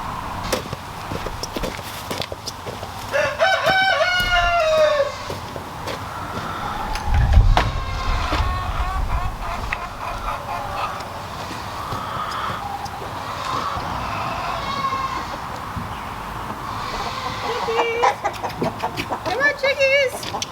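Backyard chickens cluck repeatedly while a rooster crows, the calls rising in bursts over a busy outdoor background.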